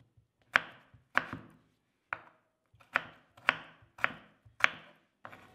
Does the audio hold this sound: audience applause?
no